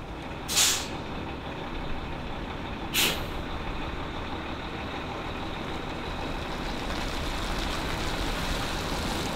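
A bus carrying activists and children from Detroit sets off with two sharp air-brake hisses, followed by a steady low engine rumble that continues alone.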